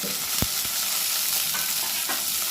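Pirandai sizzles in a pan with ginger, garlic, tamarind and onion while a spoon stirs through it, leaving a few scraping knocks over a steady, close frying hiss.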